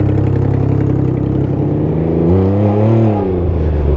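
A Can-Am Ryker three-wheeled motorcycle engine hums loudly on a night ride, a steady mid-pitched drone that rises briefly as the rider accelerates and then settles again, with road and wind noise underneath.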